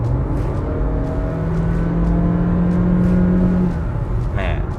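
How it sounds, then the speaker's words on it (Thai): A new engine in an all-new Honda BR-V seven-seat car with a CVT gearbox hums steadily from inside the cabin while driving, a low, even drone with a sustained tone, and someone talks over it. "เดี๋ยวเรามาทดลองขับกันดูว่าเครื่องยนต์ตัวใหม่น ี้เป็นยังไงบ้างนะครับ"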